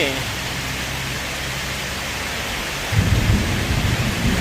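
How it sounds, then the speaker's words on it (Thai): Heavy rain pours down in a dense, constant roar, with a low rumble joining partway through. "วันนี้ฝนตกด้วย ฝนตกหนักด้วยวันนี้"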